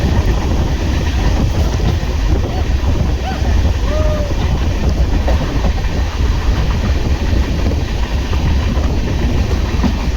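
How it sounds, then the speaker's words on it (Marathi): Steady rumbling and rattling of a moving train carriage, constant and loud, with faint voices buried in the noise. "तर आमच्या रेल्वेमध्ये आज आमच्या सोबत पूर्ण प्रवास केलेला आहे प्रिन्स यादव."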